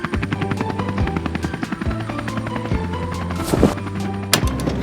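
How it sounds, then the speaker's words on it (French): Cartoon helicopter flying overhead with a heavy load slung beneath, a steady chopping rotor pulse looping at an even rhythm, loud and close, with a few thumps and a brief whoosh midway. "dans le ciel, il y a un hélicoptère avec un gros chargement"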